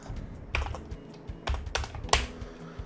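Nested HTML code being typed on a computer keyboard, a few spaced, sharp keystrokes heard close up over a faint background hum, with no voices.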